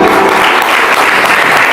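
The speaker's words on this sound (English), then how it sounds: "I think this one deserves a very, very loud applause." Loud, dense applause from an audience at a women authors award ceremony, continuous clapping with no pauses throughout.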